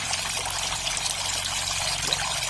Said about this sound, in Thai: ก็เราเปิดน้ำแบบนี้นะครับ